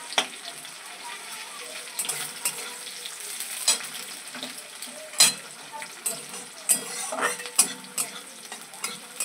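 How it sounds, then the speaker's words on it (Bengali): Chopped onions fry in oil and are stirred in a pan, turning light brown. A continuous sizzle runs under repeated scraping stirs and soft clinks, with several sharper strokes toward the end. "পেঁয়াজটা একটু হালকা লাল ভাজ করবো"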